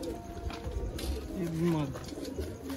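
A Sialkoti pigeon gives a soft, low coo close by, heard once as a short rolling call over faint background noise and talk.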